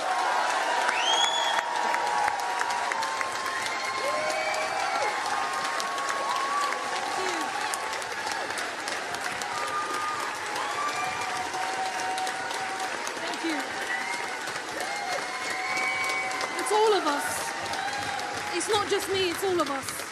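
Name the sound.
audience clapping and applauding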